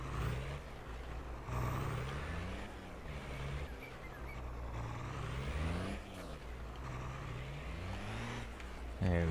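A truck engine in Farming Simulator 22 rumbles steadily while backing a trailer into its parking spot, the pitch rising and falling with throttle and a hiss of air brakes near the end; no talk over it.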